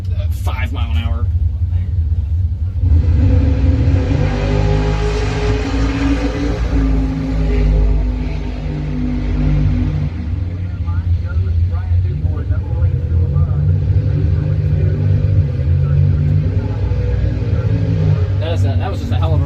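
A bracket racing car's engine roars loud and close from inside the car during a drag race, a heavy sustained rumble that swells and eases for the whole pass, with talk in the car at the start and end.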